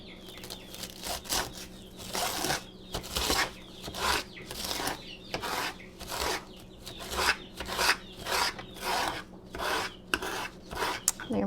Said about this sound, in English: with my fork, I'm going to start right here back at the stems and rake forwards